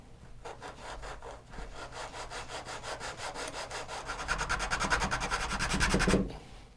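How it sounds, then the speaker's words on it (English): Steady rhythmic rasping as hand sanding shapes a convex curve into an ebony guitar bridge, strokes coming quickly and growing louder before stopping abruptly. "sanding a convex curve into ebony is just kind of a pain"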